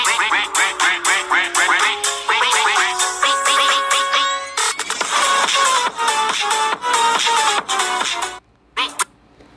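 Loud, rapid duck quacks in a bright, buzzy, rhythmic run, like a musical or edited sequence, nearly continuous with a brief break near the end and no talking.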